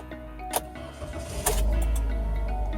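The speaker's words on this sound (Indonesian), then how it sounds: "Oke, sekarang saya akan coba menyalakan mesin ya." A car with a weak, failing battery cranks and then fires up after a jump-start from a portable power bank, catching midway and settling into a steady, close idle rumble.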